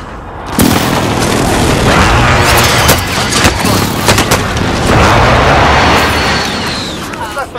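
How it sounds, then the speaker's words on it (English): Friendly precision airstrike hitting in Call of Duty: Modern Warfare, loud heavy booms and crashing explosions rolling continuously with crackling gunfire and debris, intense and close. "Be advised, friendly precision airstrike inbound."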